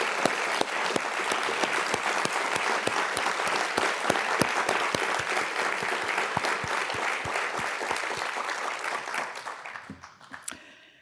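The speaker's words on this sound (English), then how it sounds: "a big collective round of applause for all of our faculty," A ceremony audience at the 2025 UNH Sustainability Awards claps for faculty, staff and student awardees, a full, even round of applause with sharp individual claps, sustained for about ten seconds before dying away to a few last claps.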